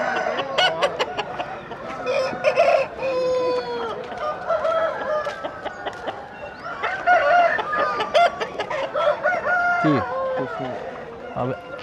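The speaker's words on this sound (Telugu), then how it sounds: "ఆ కోడి అయితే ఇడిపించుకునేసింది" Village market chickens cluck and crow in a busy, close chorus of overlapping calls, with voices talking throughout amid the crowd noise.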